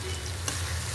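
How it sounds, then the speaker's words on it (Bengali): Ginger, garlic and onion paste fries with spices in a pan, giving a short, steady sizzle up close with one small stirring tap partway through. "আদা বাটা, রসুন বাটা, পেঁয়াজ বাটা, মশলাটা একটু ভাজা নেই"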